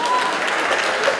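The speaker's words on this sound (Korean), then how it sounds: "박수 한번 쳐주세요." Festival audience clapping together at an outdoor hot spring festival, a dense burst of applause that stays even and close for a brief moment.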